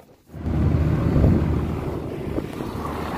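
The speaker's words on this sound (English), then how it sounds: "We're motor sailing and it's fun." A sailboat motor-sailing under engine on open water produces a steady, loud rush of wind and water against a low engine rumble, starting after a brief quiet moment and continuing without speech.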